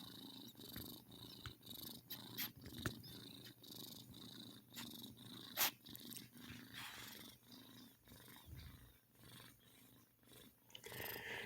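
Faint, rhythmic purring from a kitten close to the microphone, a soft rumbling pulse repeating with each breath, with a few small rustles.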